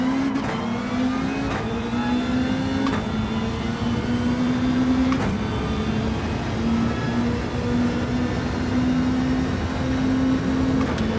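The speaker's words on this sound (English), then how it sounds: "That's Wacky Debaki in the Transurban going through" Race cars in Gran Turismo 7 hold a steady, loud engine drone with rising pitch through the gears, the sound continuous and dense, with brief shifts punctuating the run and no talk over it.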